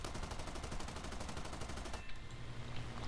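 Spitfire's .50 caliber machine guns firing in a video game, a loud, rapid continuous burst for about two seconds, then stopping as engine drone carries on.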